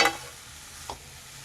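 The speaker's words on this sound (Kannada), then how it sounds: "ಈಗ ಇದಕ್ಕೆ ನಾನು ಹಸಿ ಕರಿಬೇವಿನ ಸೊಪ್ಪನ್ನ ಹಾಕೋತಾ ಇದ್ದೀನಿ." Fresh curry leaves drop into hot oil with frying shredded cabbage for a Karnataka-style cabbage palya, giving a loud opening burst of sizzle that settles to a steady hiss, with a second short crackle near the end.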